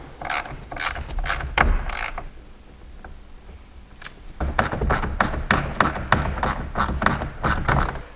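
Hand-driven ratchet clicking while tightening screws on a Bestop Sunrider soft top for a Jeep JK Wrangler, a run of rapid pawl clicks, a short pause, then a longer steady series of sharp close clicks with no talking.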